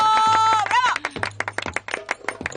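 Several people clap in a lively neighborhood gathering, with bursts of uneven sharp claps under laughter and overlapping talk, close by and fairly loud.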